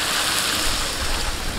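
Water is poured into a pan of potatoes fried with spices for pointed gourd and prawn curry, making a loud, steady rushing splash and sizzle throughout the short moment.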